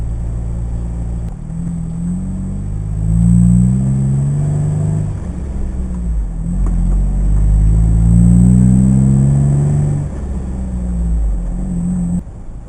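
Steady car engine drone from inside a vehicle on the road leaving Ubehebe Crater toward the Racetrack in Death Valley, low rumble swelling and easing as it accelerates, continuous and alone with no talk.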